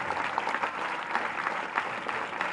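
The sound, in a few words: audience applause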